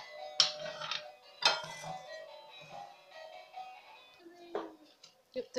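Salt, baking powder, vanilla and a spoonful of coconut stirred together in a bowl for oatmeal cookies, giving sparse clinks and taps of a utensil against the bowl with soft scraping between them, close and quiet.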